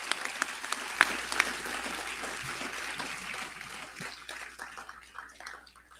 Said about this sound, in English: Let's have one more round of applause for our valedictorian.